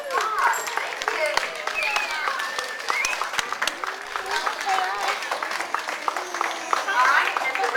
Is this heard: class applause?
yes